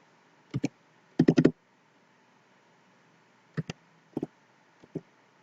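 Keystrokes on a computer keyboard entering a ration card number: a quick double tap, a fast burst of several clicks, then scattered pairs of taps with pauses between, close and fairly quiet against faint room hiss.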